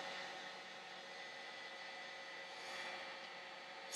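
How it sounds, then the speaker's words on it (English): Heat gun blowing over a plastic scale, a steady, faint, airy whoosh that holds evenly throughout with no voices. "Just run it over your heat gun a couple of times"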